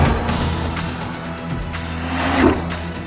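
An Audi RS3 hot hatch with 394 bhp and Quattro all-wheel drive accelerates hard under turbo boost, its engine a steady, close roar that holds throughout and swells briefly near the end.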